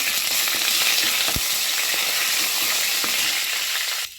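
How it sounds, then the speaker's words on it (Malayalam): Curry leaves crackle and sizzle in hot oil in a pan while a spoon stirs them, giving a dense, close frying hiss with a few sharp scraping knocks before it cuts off. "ഇത്രയും കറിവേപ്പില ഇട്ടു. ഇതൊന്ന് ഇളക്കട്ടെ."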